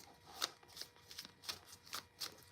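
Oracle cards are shuffled by hand in a steady run of soft, papery riffles and taps, about six close bursts in quick succession with no voice.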